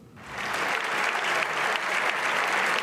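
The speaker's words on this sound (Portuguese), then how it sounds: "Aplaudido de pé pelo parlamento italiano" Sustained standing applause from the Italian parliament, a large crowd, loud and dense, continuing steadily throughout with no talking.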